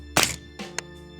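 A Colt LMG rifle round strikes a distant steel target, giving a dull thunk followed by a brief ringing tone and a smaller second tap, fairly faint with no talk.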